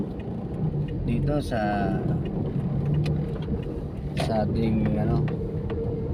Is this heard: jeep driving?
yes